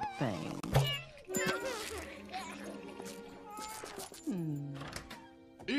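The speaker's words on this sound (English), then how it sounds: "stop tormenting that poor little kitty" A small kitten meows repeatedly in a string of close, drawn-out cries, some rising into wails, while children and adults talk and play around it and a few thumps are heard.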